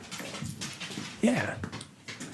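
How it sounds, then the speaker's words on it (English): Dogs whimper in a short rising whine that stands out over a soft background, with faint breathy sounds around it and a brief bit of speech. "This is the sound of my dogs performing"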